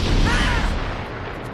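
A loud burst of gunfire and crashing impacts in a dense, chaotic film shootout between androids that fades out after about a second.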